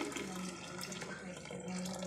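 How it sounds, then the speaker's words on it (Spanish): Strained pineapple drink (agua de piña) is poured into a jug, making a steady splashing stream for about two seconds with no talking. "Ahora lo vamos a echar en la jarra."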